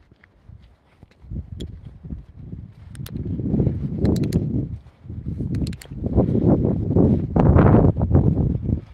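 Strong wind roars across the microphone in uneven gusts during light rain on a late-night village walk, with soft thuds like footsteps scattered underneath.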